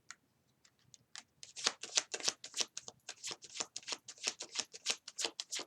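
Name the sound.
tarot cards being shuffled and drawn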